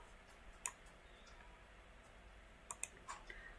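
A few sharp, quiet computer mouse clicks, one single and then a quick pair with a softer follow-up, over faint room hiss with no talking.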